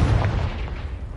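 A Confringo blasting spell in Hogwarts Legacy goes off as a deep, rumbling boom with a heavy low-end burst that decays over about a second, alone with no talk.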